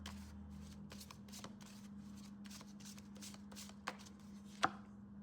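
Tarot cards being shuffled by hand, a soft, close riffling and shuffling texture with light flicks and a couple of sharper snaps near the end, steady hum underneath and no talking.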